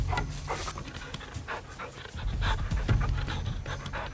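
African wild dogs breathe close by in quick, rhythmic pants that rise and fall in soft bursts against a quiet outdoor background.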